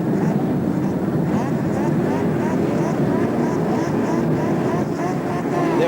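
Touring cars roar away from the start of the 1984 Bathurst 1000, a dense, loud engine din from the pack.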